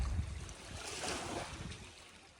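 Waves wash and hiss against the sandstone shoreline at Larrabee State Park, a steady, fairly faint surf mixed with wind rumble on the microphone, with no voices.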